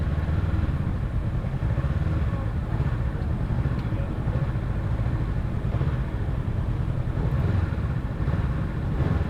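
Motorcycles rumble steadily through a pedestrian zone at Montalivet on a Sunday, a dense continuous engine drone with low clatter, moderately loud and unbroken, with no clear talk.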